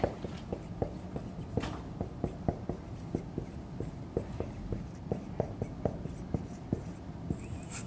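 Chalk or a marker scratches and taps on a classroom board as graphs of exponential functions are sketched, giving soft, regular strokes and clicks, fairly quiet against the room's background hum.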